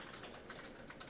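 Rapid typing on a computer keyboard during a programming lecture, a steady patter of faint, dense keystrokes continuing throughout with no talk over it.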